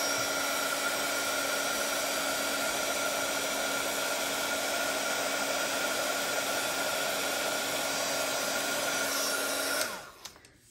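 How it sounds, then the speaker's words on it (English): A handheld heat tool blows steadily at close range for about ten seconds while melting embossing powder on a craft project, a continuous whooshing hum that cuts off abruptly near the end. "now hit it with your heat tool for just a few seconds"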